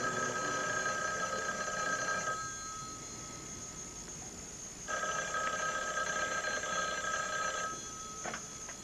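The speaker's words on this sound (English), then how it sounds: "Quentin, how nice of you to answer your own phone" A telephone bell rings in two long bursts separated by a pause, steady and moderately loud, with no voices over it.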